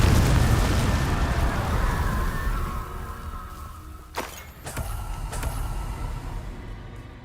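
Confringo fire spell blasts from Hogwarts Legacy: a loud rumbling roar of burning and debris, then two sharp cracking bursts close together, with the explosive rumble lingering afterward.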